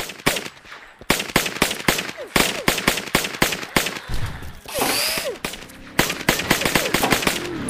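Rapid automatic gunfire in the open-world mobile game Madout2 Open City, loud close bursts of sharp repeated shots with short pauses between volleys.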